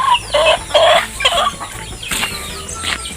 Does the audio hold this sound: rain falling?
no